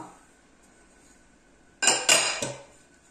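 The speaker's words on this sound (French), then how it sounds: "vous mélangez bien jusqu'à ce que le sucre soit bien imprégné dans le beurre" Soft butter and sugar being mixed in a bowl: a quiet stretch, then a few sharp, close clinks of a utensil against the bowl near the end.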